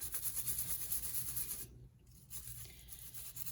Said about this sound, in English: The ones that are fresh, I would like to just brush them off.